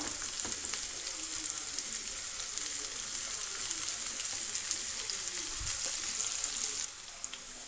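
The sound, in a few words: bitter gourd slices frying in oil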